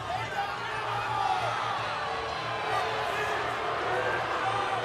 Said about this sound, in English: The crowd's unhappy here with just the frustration of not seeing their guy being able to get to his offense